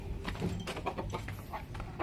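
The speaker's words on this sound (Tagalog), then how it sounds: "Pakawalan din natin yung barako dito." A native barako rooster being let out of its cage gives low clucks amid a busy, muffled farmyard clamor, close and brief.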